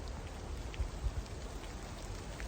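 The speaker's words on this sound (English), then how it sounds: "Rainy, cold," Cold drizzly rain falling in the woods, a soft steady hiss of drops on leaves and ground, faint and continuous with no voices.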